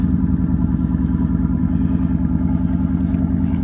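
A flood-damaged Ford Mustang's engine runs with a steady, deep, throbbing rumble, close and continuous without pauses.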